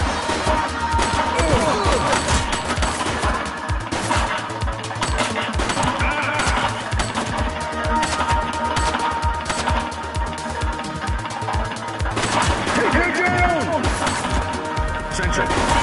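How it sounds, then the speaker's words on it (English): Gunfire in the video game The Precinct, with rapid crackling shots and impacts mixed into a dense, loud soundtrack and talk. "He's shooting!"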